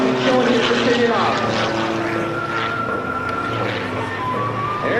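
An Extra aerobatic airplane flying a display at an air national guard open house airshow, its propeller engine droning steadily and loudly throughout, with crowd and announcer-type ambience underneath.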